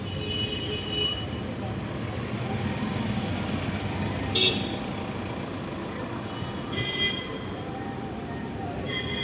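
Busy road traffic in Tirumala, a steady close rumble of engines with a few short horn toots breaking through, one sharper honk near the middle.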